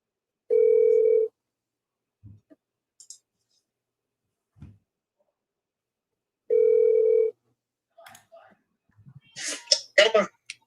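A phone call rings out through the line, with two steady ringback tones spaced about six seconds apart and short clicks between them, followed by faint voice-like noise at the end.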